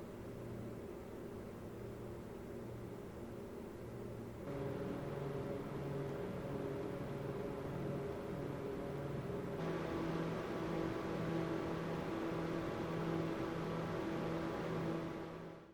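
Computer cooling fans spinning at 1400 RPM give a steady whirring hum with a low tonal drone, stepping up in loudness twice as more fans join, with no talking.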